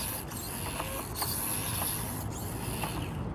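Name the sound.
Axial SCX24 RC crawler stock motor running at top speed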